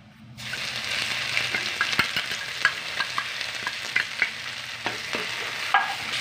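Dry garlic and spices crackle in hot oil for a Gujarati capsicum and potato curry, a close, busy sizzle with scattered sharp pops and stirring scrapes.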